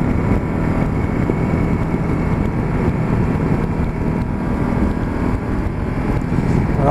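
Ducati Multistrada 1260 S motorcycle engine pulling hard on the road, a steady loud drone mixed with heavy wind rush, continuous with no pauses or talk.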